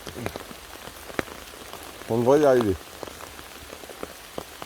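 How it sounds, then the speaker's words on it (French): Heavy rain falls outdoors during foraging, a constant close patter and hiss, with someone speaking briefly in the middle. "Donc là il pleut extrêmement fort. Je pense que vous devez l'entendre."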